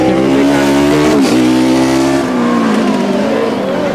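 A Formula Student race car rounds the final horseshoe bend during an endurance event in Germany. Its engine holds a loud, steady high-pitched drone, then shifts pitch sharply as it brakes, downshifts and accelerates out of the corner.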